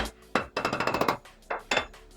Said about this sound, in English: Can I take a nail and just hammer it?